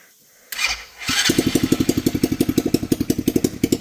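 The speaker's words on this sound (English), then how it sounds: "If you want to hear what a real fucking vehicle sounds like." A muscle car engine cranks briefly, catches, and settles into a loud, lumpy idle with an even, pulsing beat, heard up close with no talking.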